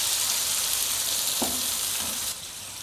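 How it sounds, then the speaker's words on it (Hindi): Tomato paste being stirred into gola kabab masala frying in a pan, a steady close sizzle with a couple of soft stirring scrapes, then the frying quietens slightly toward the end. "मिक्स करूँगी ताकि सबको पेस्ट के साथ मिक्स हो जाए।"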